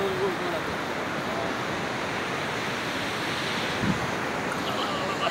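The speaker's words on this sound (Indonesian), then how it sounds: "Pantai Sawarna ini merupakan pantai dengan ombak yang cukup tinggi keras karena berhadapan langsung dengan laut lepas." High, forceful waves at Sawarna beach in Lebak, Banten, facing the open sea, make a continuous, even wash of surf with some wind noise.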